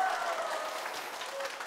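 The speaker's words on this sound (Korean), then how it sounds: "와우, 박수." Studio audience applause at a Korean TV lecture show, a brief, moderately loud burst of clapping that continues steadily throughout.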